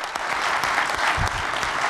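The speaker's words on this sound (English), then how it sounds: "Let's give our panelists a big round of applause." Audience applause for the panelists at the close of an interfaith panel discussion, a steady dense wash of many hands clapping throughout, fairly close and unbroken.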